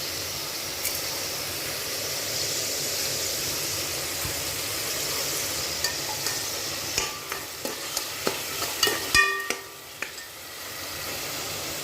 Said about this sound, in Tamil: இது நல்லா பச்சை வாசனை போகிற அளவுக்கு நல்லா வதக்கியாச்சு